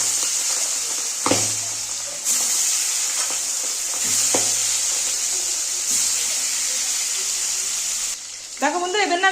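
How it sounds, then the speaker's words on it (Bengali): Boal fish pieces rubbed with salt and turmeric fry in hot oil with a strong, steady close hiss and occasional stirring clatter, and a voice speaks briefly at the end. "দেখো তেলটা গরম হয়ে গেছে, মাছগুলো এবার আমি ভেজে নেব।"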